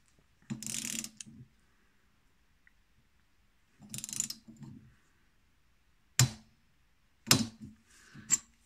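A torque wrench ratcheting on the cylinder studs of a Peugeot 103 moped, with short bursts of rapid clicking separated by silence, four or five bursts close and crisp, no voices.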